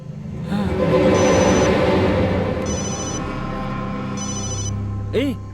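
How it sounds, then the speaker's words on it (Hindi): A telephone rings in two bursts of trilling bell tones over a low engine-like rumble, fairly close and clear, with a short swooping sound at the end. "उसी का फोन है।"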